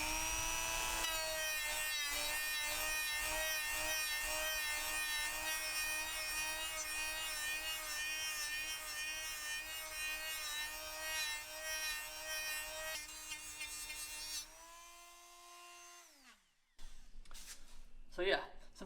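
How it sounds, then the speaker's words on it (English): A Dremel rotary tool grinds rust spots on a Mitsubishi Lancer Evo 9 body in a garage. A loud, steady high whine with buzzing harmonics runs close up, then spins down and cuts off, followed by brief handling noises. "I'm gonna try to hold the camera freehand and do this with the Dremel"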